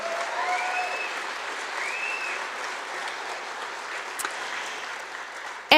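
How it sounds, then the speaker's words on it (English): An audience at an Alberta independence talk in Morinville applauds steadily for several seconds, a moderate, sustained patter of many hands. "can we just have a round of applause for Shelby and Scott Hayes for all the work they've done?"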